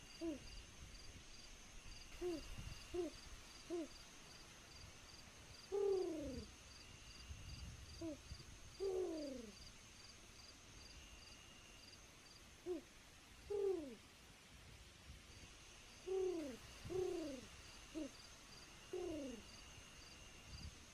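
An owl in a video game realm hoots in repeated soft, two-note calls spaced every few seconds, heard faintly over a quiet background with chirping insects and no talking.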